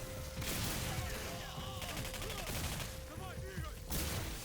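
Bursts of rapid gunfire from the shooter game Singularity hit a nitrogen tank, crackling in dense volleys with hissing and clattering impacts, fairly quiet overall, with a voice talking over the action.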